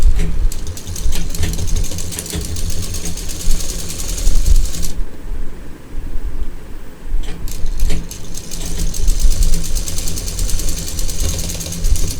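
A sewing machine runs double stitching along a flat fabric strip for a potli pouch, a steady mechanical whir and rattle that pauses briefly midway, then resumes at close range.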